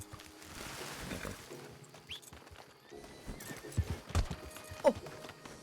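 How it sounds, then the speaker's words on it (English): Horse hoofbeats clop along in a WildRP (Red Dead Redemption 2 roleplay) game scene, followed by a short whinny near the end, set against soft ambient background noise. "I came on Yuri's horse."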